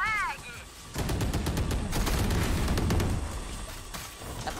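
Gunfire in the tactical shooter Valorant, a dense burst of rapid shots and impacts lasting a couple of seconds, loud and close, with game sounds around it.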